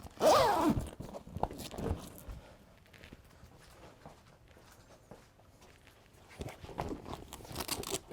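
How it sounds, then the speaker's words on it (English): A zipper is pulled closed along the side panel of a Bestop Trektop NX soft top on a Jeep LJ, with a loud, close rasping zip at the start and further shorter zipping strokes near the end, with quiet handling in between. "I basically just zipper the side up all the way because it needs to hold it in place for this"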